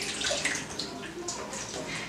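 Water is poured steadily into the detergent dispenser of a washing machine, a continuous close splashing trickle with no break.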